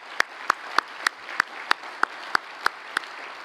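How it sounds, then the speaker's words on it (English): Sparse, evenly spaced claps ring out in a room during a city's State of the City address, about ten sharp claps at a steady pace, fairly quiet and not a full crowd ovation. "Everybody give yourselves a hand of applause because we all did it together."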